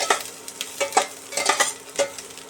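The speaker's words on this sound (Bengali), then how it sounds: "কড়াইতে আবার দু চামচের মতো তেল দিয়ে দিয়েছি দিয়ে করলাগুলো ছেড়ে দিলাম" Pieces of bitter gourd frying in about two spoons of oil in a wok, with bursts of sizzling and the scrape of stirring in an uneven rhythm, close and moderately loud.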